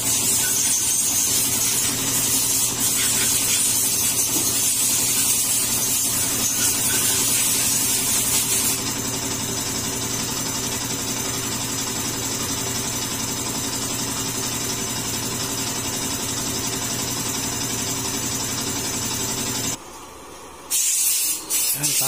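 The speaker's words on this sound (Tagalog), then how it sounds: "Medyo maingay yung compressor natin kasi naghahangin sila sa kabila." Air compressor in a motorcycle workshop during a big bike bearing replacement, hissing loudly and continuously with a broad rushing spray of air over a low mechanical hum, then cutting out briefly near the end.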